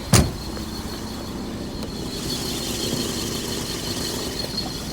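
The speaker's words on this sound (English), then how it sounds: "let me turn this engine off" A car engine idles steadily nearby with the bonnet open, a low continuous hum and faint high whine after a sharp knock at the start, with no talking.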